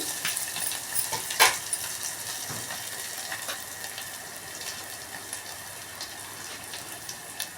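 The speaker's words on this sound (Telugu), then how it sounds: "అల్లం మంచిగా వేగింది" Ginger sizzles and fries in a pan for a mushy dal rasam, a steady soft crackle with a brief sharp clink of a spoon early on and faint stirring throughout.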